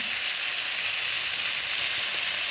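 Tomato simmering in a pan for a coconut tomato yogurt chutney gives off a steady, even sizzle of bubbling juice with no breaks, close and moderately loud, and no voices.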